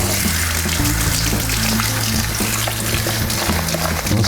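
Cooked rice noodles are rinsed under running water, a loud steady gushing pour of tap water splashing over the noodles without pause.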